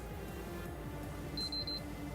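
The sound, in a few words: beep from a PlayStation speaker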